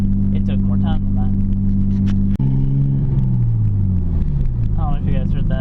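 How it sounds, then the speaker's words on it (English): A truck engine rumbles loudly close by, then its pitch drops as it passes, while a person talks over the noise. "I don't know if you guys heard that little show-off truck again."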